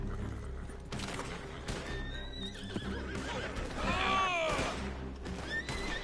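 A horse in Red Dead Redemption 2 Online whinnies loudly in a long wavering neigh, preceded by shorter snorts and nickers and clip-clop hoofbeats across a steady game background.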